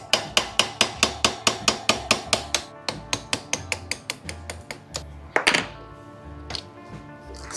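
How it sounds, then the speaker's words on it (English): A nail's flat side is hammered against a pin in a Royal Enfield Himalayan 450 front brake caliper, giving a close, loud run of about twenty sharp metallic taps at a steady rhythm, then a few scattered knocks. "I'm using a nail, the flat side of the nail, and hammering it out"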